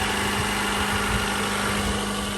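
A Honda Civic EG Ferio engine idles smoothly just after its faulty ignition coil was replaced, a steady, close, even hum with a faint low drone and no speech.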